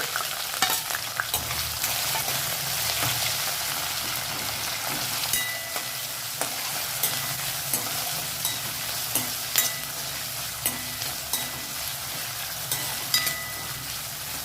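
Chopped vegetables and green chillies fry for a millet biryani, a dense close sizzle running throughout with a series of sharp clinks and scrapes as a spoon stirs the pan at a steady pace.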